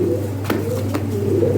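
Domestic pigeons coo close by, giving two soft, throaty calls about half a second apart over a steady low background hum.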